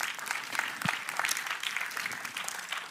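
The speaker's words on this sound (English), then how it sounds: "A little applause for everybody." Audience applause at a presentation session of a high-performance computing user conference, a steady wash of many hands clapping at moderate level with no voices over it.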